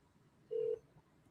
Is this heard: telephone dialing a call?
yes